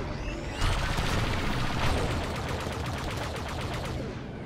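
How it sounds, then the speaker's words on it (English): Starfighter blaster fire in Star Wars Battlefront 2 Starfighter Assault: dense, rapid, loud bursts of shots rattle on continuously with no pauses. "they keep shooting at me"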